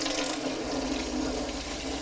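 Water runs steadily from a faucet in a van's plumbing system, a continuous close hiss and splash with no breaks and no voices.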